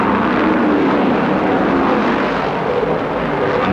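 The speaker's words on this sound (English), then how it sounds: "When the green flag drops, they punch the throttle, ready to climb the 31-degree turn at speeds of 180 miles an hour." A pack of 1969 stock cars roars loudly and continuously as they accelerate on a banked oval at speed, a dense, steady engine drone that fills the whole clip.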